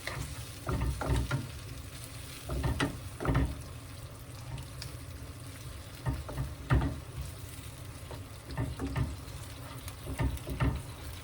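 Jamaican brown stew fish sauce is stirred in a hot pan with a little hot water, giving a steady close sizzle broken by repeated scraping stirs, with no talking.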